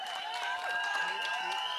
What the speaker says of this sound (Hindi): जोरदार तालियां राजपाल यादव जी के लिए।